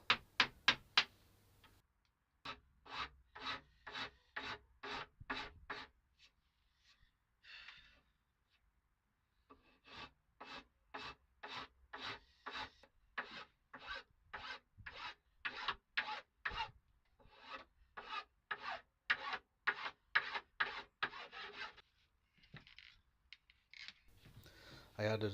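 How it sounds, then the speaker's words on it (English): A Shinto rasp and then a fine file shape wood for a simple bench, making close, rhythmic rasping strokes in quick bursts separated by short pauses. "I then finished up with a Shinto rasp and then a fine file."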